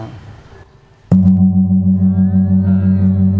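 After a quiet moment, an aluminium Thai gong is struck once, ringing out with a bright, sustained, slightly wavering tone that fills the rest of the clip.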